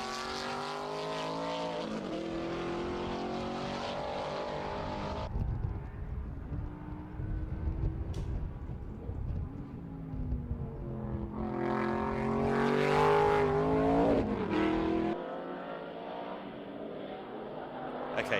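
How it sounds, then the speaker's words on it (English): A V8 race car engine roars continuously on the Estoril circuit, its pitch rising and falling through gear changes as it passes, loud and up close. "So let's duck out and hear the engine."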